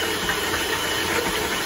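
An electric hand mixer beating cookie dough with eggs: a steady, loud motor whir with a slightly rough, fluctuating texture, close and continuous, with no talking.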